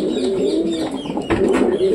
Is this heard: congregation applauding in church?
no